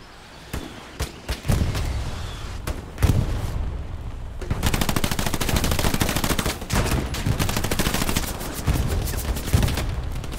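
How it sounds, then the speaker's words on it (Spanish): Artillery fire in the World War II shooter Hell Let Loose: several heavy blasts early on, then a dense, sustained barrage of rapid detonations and gunfire rolling on loudly without pause, with no talk. "Otra vez la artillería, tío."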